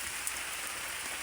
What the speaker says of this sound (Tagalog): kitang kita nyo po nga umuulan dito sa kubo ko, nga medyo matulo